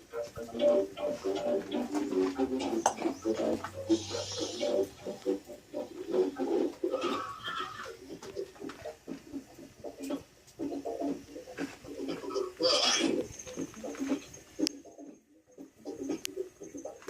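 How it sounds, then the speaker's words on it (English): Pigeons or doves coo outdoors in soft repeated calls, with other small birds chirping now and then and light background noise. A voice briefly speaks. "Little birdies."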